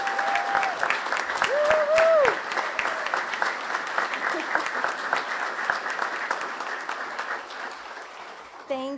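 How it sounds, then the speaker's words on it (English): An annual meeting audience gives a warm round of applause for the Manager of the Year, sustained crowd clapping throughout, with a few short whistle-like tones early on over the clapping. "If we could give her a big round of applause"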